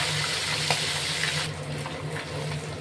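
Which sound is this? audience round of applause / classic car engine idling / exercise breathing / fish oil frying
fish oil frying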